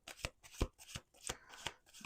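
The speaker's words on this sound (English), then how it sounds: "All right, I feel like I'm flipping too fast through the cards. Let's do 2 more shuffles here." A deck of playing cards being shuffled up close, with quick riffling bursts and soft slaps repeating about every half second, fairly quiet and with no talk.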